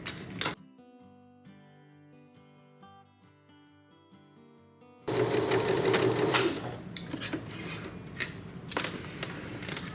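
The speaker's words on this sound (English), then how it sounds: "now we are going to sew from end to end, across that way" A sewing machine stitches a fabric seam on a reversible dog bandana, first as a quieter stop-start mechanical chatter and then as a loud, steady, fast-running whir for the second half.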